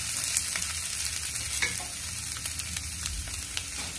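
Potatoes sautéing in a masala over a low flame, a steady quiet sizzle under faint scraping stirs, close and continuous with no talking.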